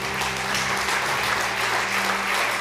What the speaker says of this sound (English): So please applaud with me for John Carter, Planetary and Solar System